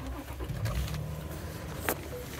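A 2015 Toyota Tacoma off-road edition cranks and catches nearby, its engine settling into a low steady idle rumble, with a small click partway through.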